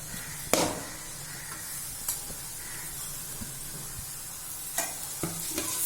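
Beans and carrots sautéing in a pan for vegetable cutlets, a steady low sizzle broken by a few sharp scraping stirs of a spoon against the pan.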